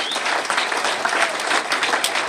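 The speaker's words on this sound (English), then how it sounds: "let's give a big round of applause for all the newcomers here tonight" An audience at a Narcotics Anonymous recovery meeting claps for newcomers, a loud, close burst of steady crowd applause that fills the whole short stretch without any talk.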